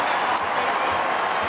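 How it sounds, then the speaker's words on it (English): Crowd at an Australian football match applauding a player's 500th career goal, a steady wash of clapping and cheering from a large stadium audience, loud and continuous. "The crowd applaud."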